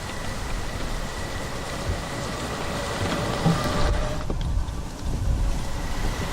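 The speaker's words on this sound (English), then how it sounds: "Rainy, misty day." Steady rain falls outdoors on a misty farm day, a soft continuous wash of patter with faint background rumble and no talk, holding even throughout.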